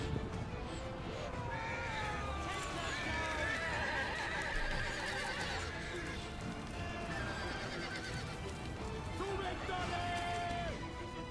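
Horses neigh and whinny during a medieval battle in Thrones of Britannia: A Total War Saga, with several shrill calls rising over a constant din of hooves and clashing troops.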